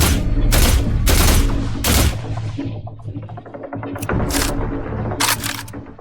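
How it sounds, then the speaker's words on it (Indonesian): Gunfire in the video game The Last Caretaker comes as several loud, close bursts of rapid shots, with a quieter gap and a low hum in between, then more bursts. No voices. "Kita tembak ini dari jauh."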